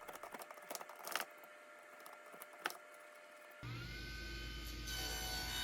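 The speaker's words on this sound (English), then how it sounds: "use a larger diameter bit in my push drill to drill a hole" Quiet, irregular scraping and ticking of a hand push drill boring into wood, with a few sharper clicks, then a steady hum takes over.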